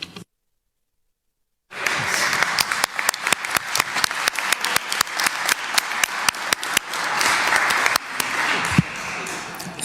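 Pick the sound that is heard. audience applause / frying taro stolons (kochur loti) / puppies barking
audience applause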